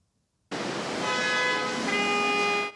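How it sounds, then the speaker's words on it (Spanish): Car horns in city traffic start abruptly after a moment of quiet and blare together as a loud, sustained chord of overlapping horn tones, with a second horn joining partway through. "Sinfonía de bocinas en la ciudad."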